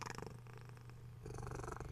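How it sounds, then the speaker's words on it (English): A contented cat named Potato purrs steadily and close up, a continuous low rumbling drone with rhythmic pulses of breath running unbroken through the whole moment. "I don't know if you can hear the very contented purring"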